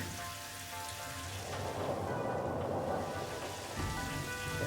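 Rain falling in the factory-building game Satisfactory, a steady hiss of downpour that swells briefly in the middle with a low rumble underneath, heard alone without talk.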